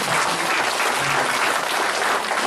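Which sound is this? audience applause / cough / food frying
audience applause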